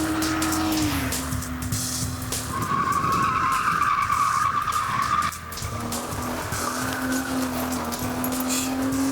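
A street car on standard tires skids during track test laps, with loud, sustained tire squeal over the roaring engine. The squeal shifts in pitch as the car slides through the corners, heard close with no talking.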